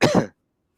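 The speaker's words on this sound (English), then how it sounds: "I've got a cough." A single short, throaty cough, close and abrupt, followed by silence.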